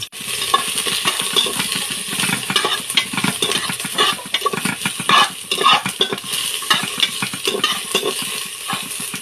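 Spices sautéing in a pan before sardines are added, a dense crackling sizzle with constant metallic scraping and clinking of a spatula, close and loud throughout with no talking.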